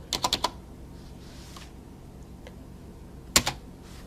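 Quick computer keyboard keystrokes come in a short cluster of four clicks, then a long quiet pause and one more brief pair of taps, close and crisp.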